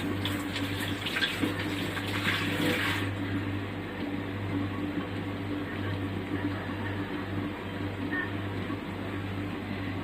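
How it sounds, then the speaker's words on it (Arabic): Water with meat in a pot on the stove coming to a boil, a steady bubbling hiss that runs the whole time over a low hum, with a brighter burst of noise in the first few seconds. "اهي بدأت تغلي اهي"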